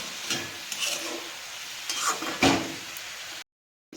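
Spatula stirring greens frying in a pan, a few scraping strokes and soft sizzling, close and clear with no talk, ending abruptly in silence.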